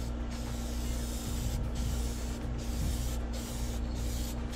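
A second coat of spray paint goes onto an aircraft cowling, a steady close hiss over a low mechanical hum, briefly cut off in short pauses about every one and a half seconds.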